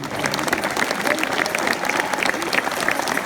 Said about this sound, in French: je vous demande de leur offrir les longs applaudissements qu'ils méritent